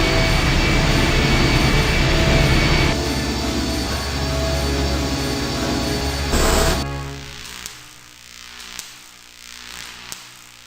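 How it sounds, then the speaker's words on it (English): A heavy engine in the I Have No Mouth, and I Must Scream game roars loudly with a dense jet-like rumble, then cuts off abruptly into a low, quieter hum with a few faint clicks. "The engine's starting up again."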